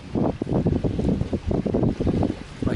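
Strong wind buffets the microphone on a lakeshore during a solo canoe trip in the Boundary Waters, rumbling gusts in uneven bursts with no speech.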